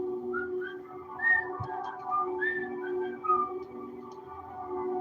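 Someone whistles a wavering tune in a bathroom, a clear melodic whistle over a steady low hum, continuing throughout at moderate volume.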